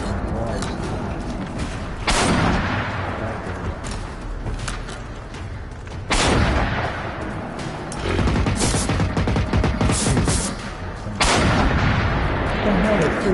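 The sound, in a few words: rocket gunshots fired in a video game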